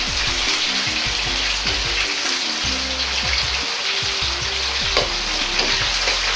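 Chicken breast karaage deep-frying in hot oil gives a steady, dense sizzle and crackle throughout, close and fairly loud, with occasional low knocks from stirring.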